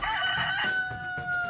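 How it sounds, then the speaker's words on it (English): A rooster crow plays as an electronic sound effect from the Sphero EDU app on a Sphero Bolt robot, a single clear, bright cock-a-doodle-doo heard alone. "we get the rooster sound from the Sphero EDU app"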